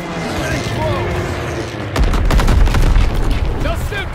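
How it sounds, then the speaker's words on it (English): In Call of Duty: WWII, a flak gun booms amid explosions, loud rhythmic heavy reports and deep blasts that take over after a stretch of battlefield noise, with voices shouting over the fighting. "There's the flak gun!"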